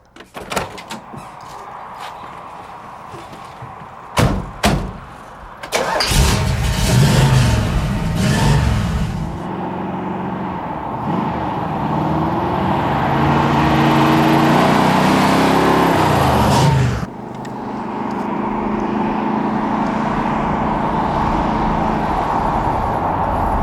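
A 1965 Pontiac GTO: a couple of door thumps, then the engine fires into a loud, steady rumble that builds and holds as the car pulls away, with no talking.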